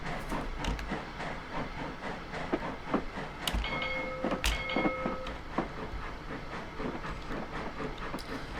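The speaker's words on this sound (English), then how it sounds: "As you can see, I'm starting to hemorrhage steam already." A steam tank locomotive in the Train Simulator 2015 game, a 14xx autotrain, leaks steam with a constant hiss beneath rhythmic clanking running gear, with a brief whistle-like tone in the middle.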